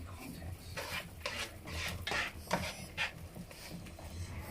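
Swedish brown sauce for meatballs is mixed in a pan, giving soft, quiet scraping and stirring strokes in an irregular rhythm, close by with no talking.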